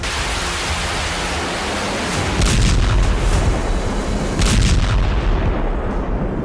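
Explosions from US airstrikes in Yemen: a dense, loud roar of blasts and rumbling booms, swelling in heavy bursts around the middle and near the end, with no voices.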